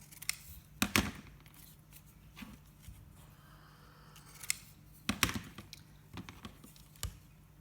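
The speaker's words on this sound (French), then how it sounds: "Allez, je coupe ça." Scissors cut paper scraps for decorating a box with a few sharp, close snips in uneven bursts, separated by quiet pauses and light handling noise.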